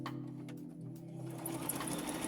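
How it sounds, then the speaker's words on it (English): A sewing machine stitches through a junk journal page, a fast mechanical whir of needle strokes that runs steadily, close and fairly quiet, with no talking. "So I'm pulling my sewing machine"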